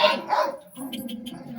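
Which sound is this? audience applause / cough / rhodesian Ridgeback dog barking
rhodesian Ridgeback dog barking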